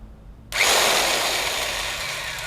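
A MAXNUM MN-5016B 3800W electric chainsaw starts abruptly and runs at a loud, steady high-pitched whine close by.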